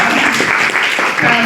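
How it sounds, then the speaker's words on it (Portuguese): Audience applause at a public university class on memory, democracy and human rights, a steady wash of clapping filling the short moment with a voice faintly present underneath. "palmas para a Neuza"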